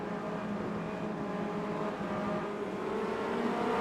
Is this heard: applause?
no